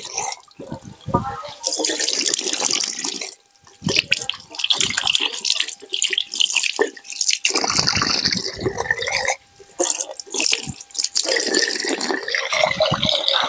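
Hands being washed with soap under a running tap, a loud close stream of water splashing almost continuously with a few short breaks and some rubbing and dripping.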